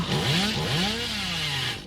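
A chainsaw revs loudly and alone in the Dead by Daylight video game, its whining engine pitch rising and falling in sweeping curves over about two seconds.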